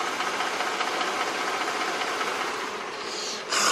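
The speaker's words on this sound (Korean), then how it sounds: "현재 주행거리도 짧기 때문에 엔진 소음을 먼저 들려드리면은" A low-mileage Mercedes-Benz SUV engine idles with the hood open, giving a steady, even hum with a faint rattly texture. Near the end a brief louder rise comes in.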